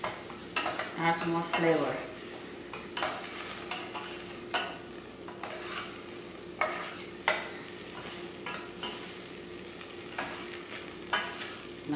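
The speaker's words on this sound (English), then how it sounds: "We have to fry it till it turns white." Basmati rice being fried in a pan with cinnamon and garam masala, a steady close sizzle broken by repeated scraping stirs of a spatula, while a voice briefly talks over it at the start.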